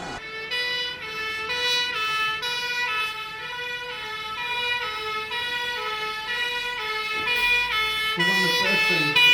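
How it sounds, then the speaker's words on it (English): Fire engine sirens approach a petrol tanker and car road traffic collision in Brooklands, Surrey, in 2009, wailing continuously and growing louder over several seconds. "You can hear the fire sirens coming now"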